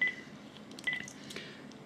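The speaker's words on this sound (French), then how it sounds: "Donc là, ça compose." A home landline phone dials out to an iPhone, a quick run of short dialing tones spaced unevenly, clear and close with no talk.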